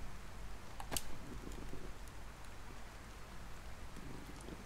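Steady rain falls in the survival video game DayZ, a continuous soft hiss with a few sharper drop ticks, moderately quiet and alone without talk.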